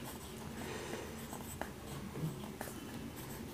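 Chalk or marker writing on a classroom board for a Class 3 English grammar lesson: a few short scratchy strokes with soft taps, fairly close, over a steady noisy room hum and no talk.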